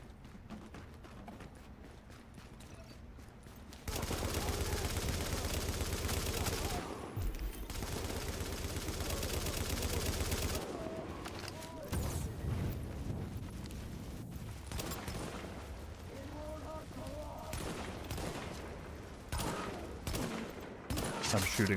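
Rapid gunfire in the video game The Division, set at night in a blizzard near a landmark, with sustained bursts of automatic fire and scattered shots over about twenty seconds, fairly loud.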